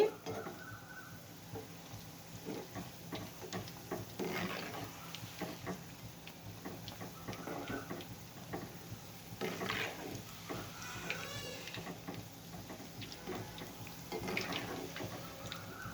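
Fish 65 pieces frying in oil, a faint continuous bubbling sizzle with intermittent stirring clicks and scrapes throughout, fairly quiet and without talk.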